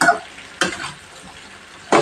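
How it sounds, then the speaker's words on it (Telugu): Stuffed eggplant masala curry (gutti vankaya) is stirred in a pan, with three quick scraping, sizzling strokes of the spoon separated by quieter simmering frying, close and with no voices. "మాడిపోకుండా ఇలా కలుపుకోవాలి."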